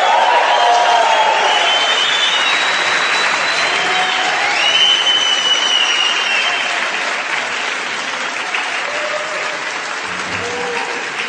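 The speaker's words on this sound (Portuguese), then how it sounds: "Palmas para essa gata." A live concert audience breaking into loud, sustained applause and crowd noise, with a few whistles and faint shouts rising above the steady roar.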